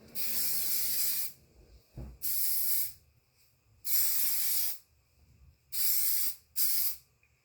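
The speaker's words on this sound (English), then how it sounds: "Then turn your can and spray your hair from there." A hairspray can hisses in five bursts of about a second each, separated by brief quiet gaps, with a faint thump in between.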